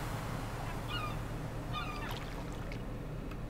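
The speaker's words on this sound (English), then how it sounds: "Fuck out of here, seagulls!" Seagull cries from Stardew Valley, two short bursts of high squawking calls heard faintly over a steady low ambient bed, with no talk.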